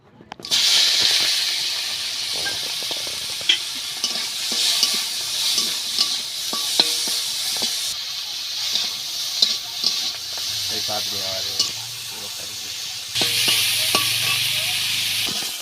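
Prawns fry in hot oil in a wok, a close, steady sizzle and hiss broken by repeated scraping stirs of the utensil. The frying swells louder near the end.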